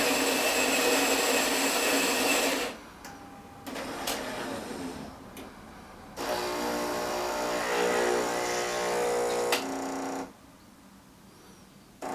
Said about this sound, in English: Basically hold down the middle button, it's going to grind coffee fresh.